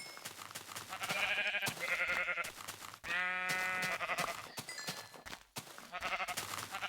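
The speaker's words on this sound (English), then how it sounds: "I'm sorry, Mr. Sheep. I need your wool" Sheep in the video game Minecraft bleat repeatedly with wavering, nasal cries that come in several loud bursts close up, over a steady game background with no talk.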